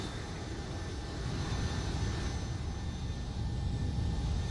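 Steady, dense roar of Boeing 757-200 jet engines in the X-Plane 11 flight simulator, a continuous broadband drone holding level throughout with no break.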